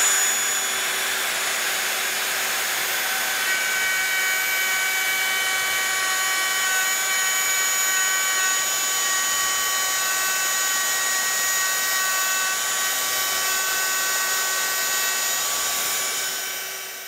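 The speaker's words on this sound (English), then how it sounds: "Then we'll start the router, plunge into our guide strips," A plunge router with a guide bushing cuts dados in wood along guide strips of a dado jig, giving a loud, steady high-pitched whine that runs without a break and then winds down at the end.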